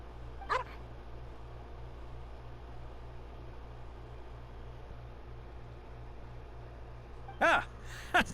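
A dog named Swuff barks in the Genshin Impact video game, one short bark near the start and a double bark near the end over a steady low hum.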